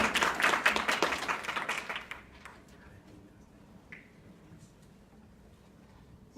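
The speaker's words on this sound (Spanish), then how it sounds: "Démosle un fuerte y caluroso aplauso," An audience at an event on ecology, politics and the Laudato Si encyclical in Medellín gives a speaker a burst of dense clapping that stops abruptly after about two seconds, followed by a quiet room with faint stray sounds.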